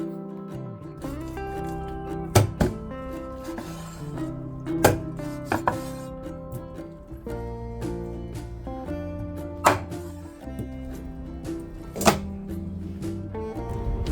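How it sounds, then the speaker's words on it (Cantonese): A knife chops through a whole chicken to remove the neck and feet for Hakka salt-baked chicken, giving sharp, loud thunks on a board at irregular intervals over a steady musical background. "切走呢個雞頸同埋雞腳"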